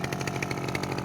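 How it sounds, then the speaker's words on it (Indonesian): A grass cutter's small two-stroke engine revs steadily while harvesting rice in a paddy, a loud, buzzing, continuous drone with rapid pulsing, close by and without voices. "Ini mereview video memotong padi pakai mesin potong rumput."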